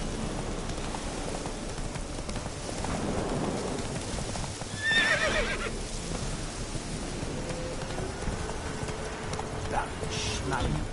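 Roach the horse in The Witcher 3 gallops with steady hoofbeats, a loud whinny cutting through around the middle. Rain-like hiss sits underneath, and a voice talks over parts of it.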